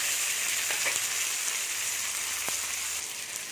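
Onions and spices for a drumstick and potato kara kuzhambu sizzle and crackle steadily in a hot pan, a constant frying hiss with a few soft clicks of stirring.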